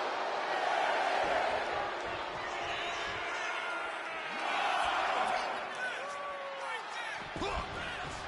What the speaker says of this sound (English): And Dominic is getting the crowd going.